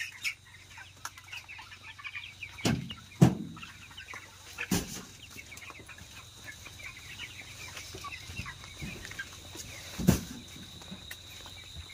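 Broiler chickens, about 3000 birds, cluck and call intermittently in a quiet poultry shed, with a few sharper squawks standing out over soft background noise.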